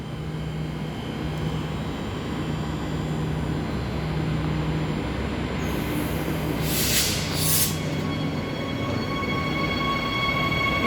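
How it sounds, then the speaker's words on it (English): A Butler service train pulls away from platform 2 at Clarkson station, a steady rolling rumble with a brief burst of high hissing midway through. "Now it's departing, same train."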